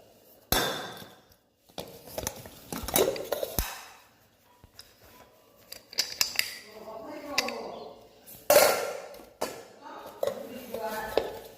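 Metal pots and a pressure cooker clatter and clank as they are washed and set down, with sharp bangs and scraping in irregular bursts separated by short pauses, fairly close.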